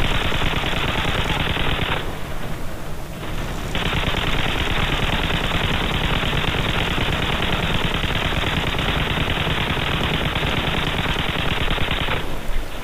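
Automatic machine gun fire in the Call of Duty: Modern Warfare 3 campaign, loud and nearly continuous rapid bursts with one short lull partway through.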